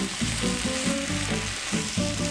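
Green onion, chili pepper and garlic stir-fry in a pan for a potato and fish cake side dish, a steady close sizzle with scraping stirring strokes in a loose rhythm, with no talking.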